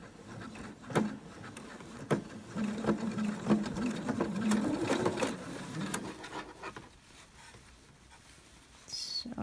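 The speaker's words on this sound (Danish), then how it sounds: "Så jeg bruger lige min vippedippe til at lægge bagved, så symaskinen kommer godt i gang helt herude fra kanten af sømmen." A sewing machine stitches a pleated fabric face mask with a nose clip, running in uneven bursts of rapid mechanical whirring and clicking close by, then slowing to quieter taps.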